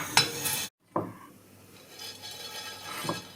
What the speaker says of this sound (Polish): Rzucamy na patelnię i czekamy, aż nam się odrobinę zrumienią.